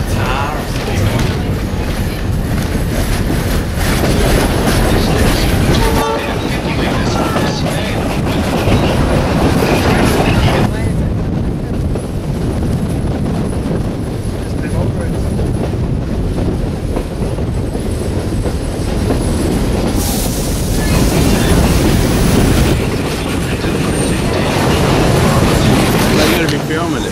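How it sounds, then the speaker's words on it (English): A train rolls past on the Zig Zag Railway near Lithgow, New South Wales, loud and close with steady clickety-clack of wheels over rail joints and some wheel squeal, continuous throughout, with a few voices in the background. "Here comes the train."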